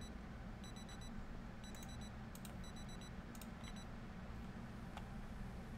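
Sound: alarm clock ringing in Project Zomboid video game

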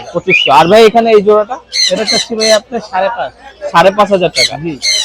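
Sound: cage birds at Mirpur bird market

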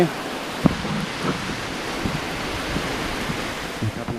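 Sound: rain falling outside

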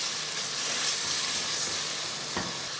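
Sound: onions and garlic frying in hot oil

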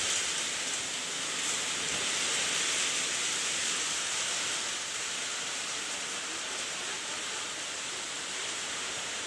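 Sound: heavy rain during a storm

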